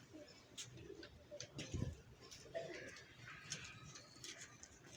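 Domestic pigeons kept as a hobby coo softly nearby, with repeated low calls over quiet outdoor background and a few faint ticks.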